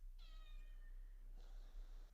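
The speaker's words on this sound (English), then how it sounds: "she's meowing all over the place" A female cat meows twice, a long drawn-out harmonic cry followed by a shorter one, fairly close and clear over a low steady background hum.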